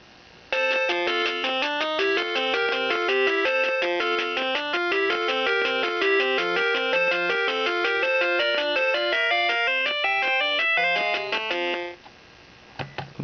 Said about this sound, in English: If I go to Mario Bros, you'll be able to hear the Famiclone's crappy audio.